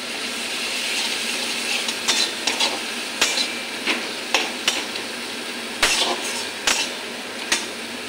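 Onion paste and ginger fry in fish curry masala under a constant loud sizzle, while a spatula strikes the pan in a series of sharp, regular clacks.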